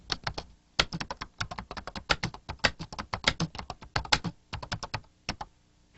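Rapid, uneven clatter of keys on a computer keyboard, fairly close and steady for several seconds, with brief pauses between bursts of typing and no voice.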